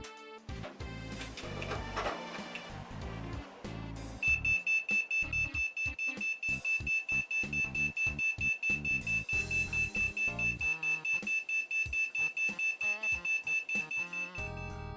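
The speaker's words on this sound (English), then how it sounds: "the PC promptly getting angry and doing a whole load of beeping" A cheap custom desktop PC with the wrong Core i5 processor version fitted beeps at power-on. A steady high tone sits over a long run of evenly spaced, rapid electronic pulses.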